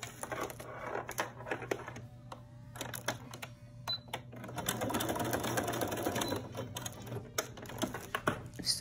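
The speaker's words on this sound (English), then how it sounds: "I am just sewing down the Velcro on each side, corner to corner" Sewing machine stitching Velcro corner to corner onto a fabric pacifier clip, a steady close mechanical whir with rapid needle clicks that swells louder midway and carries on throughout.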